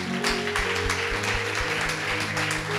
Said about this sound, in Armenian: Եկեք զորավոր ծափահարենք